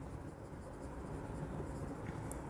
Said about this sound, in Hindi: यहाँ पर लिखेंगे सुरेश